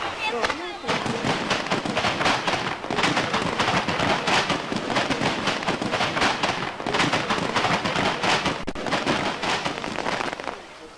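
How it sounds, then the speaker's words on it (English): Fireworks burst at night over a chapel in Braga, Portugal, in a dense, continuous run of crackling bangs and booms that sound loud and close, with a voice heard faintly at times. "sometimes fireworks make it shine even brighter"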